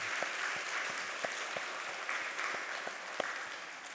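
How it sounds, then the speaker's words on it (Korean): A church congregation applauds together during a Sunday worship service, a sustained wash of clapping from many hands with a few sharper individual claps standing out, moderately distant in a large room. "사랑의 미소와 함께 응원과 격려와 칭찬과 사랑을 담고 우리 힘차게 하나님께 감동의 박수를"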